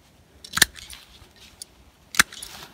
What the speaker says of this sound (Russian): Вот эту верхушечку чуть-чуть обрежу